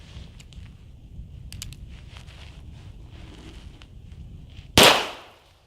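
A single sharp 9mm pistol shot fired into a snow pile outdoors, loud and close, decaying quickly after a quiet stretch of faint ambient noise and small clicks.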